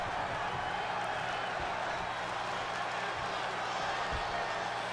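Arena crowd noise from the WWE 2K20 wrestling game during a Becky Lynch versus Tegan Nox match, a steady broad roar of cheering spectators sustained throughout without letting up.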